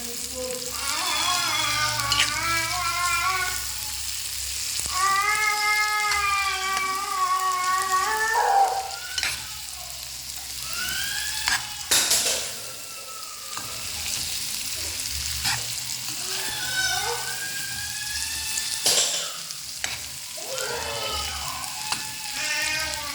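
A pan of potato curry sizzles and frying softly while a spoon stirs through it, with a voice talking over the cooking throughout.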